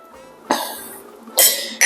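Two separate coughs, the first short and sharp, the second louder and harsher about a second later, with quiet in between.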